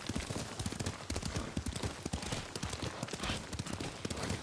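Horse hooves clip-clopping in a steady, rapid galloping rhythm during a ride in the game Ghost of Tsushima, loud and close throughout with a busy background of ambient noise.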